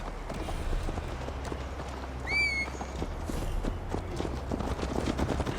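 A ridden horse in Assassin's Creed Valhalla, with steady clip-clop hooves close by over a low rumbling game soundscape, plus a brief bird-like whistle partway through.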